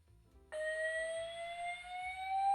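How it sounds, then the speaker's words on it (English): A fire alarm sounds with a steady, piercing electronic tone that begins abruptly and holds continuously, fairly faint and heard alone without speech. "False alarm on the fire alarm."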